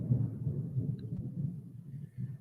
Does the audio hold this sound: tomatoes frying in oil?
no